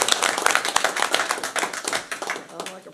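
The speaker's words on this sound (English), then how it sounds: "I think that deserves applause." Clapping from attendees at a school board meeting, a scattered patter of hands in a room, moderately near, with some talk mixed in.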